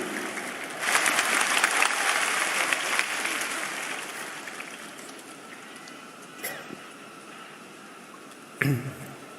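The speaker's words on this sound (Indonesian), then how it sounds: "Boleh kita berikan tepuk tangan yang meriah untuk Ustadz kita" Applause from an audience at a large live Islamic lecture gathering, a broad wash of clapping that swells quickly and then slowly thins out over several seconds, ending with a few scattered noises.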